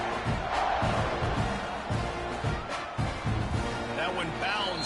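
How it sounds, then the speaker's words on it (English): Football stadium crowd roaring during a playoff kickoff, a dense, steady wall of cheering under a commentator's continuous talk. "this crowd is feeling themselves after that last drive"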